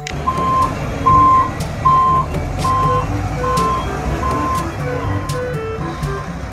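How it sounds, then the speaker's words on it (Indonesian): A toy cement mixer truck sounds a steady run of evenly spaced electronic reversing beeps, about one per second, clear over a low rumbling background. "Di sini ada mobil truk molen."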